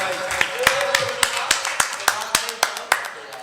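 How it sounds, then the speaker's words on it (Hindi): Scattered hand claps for the poet Shamshad Hussain Saraei at a mushaira marking the anniversary of Radio FM 89 Layyah, a few close, sharp claps falling in a steady, evenly spaced rhythm, with voices underneath. "भरपूर तालियों में मियाँ शमशाद हुसैन सराई साहब"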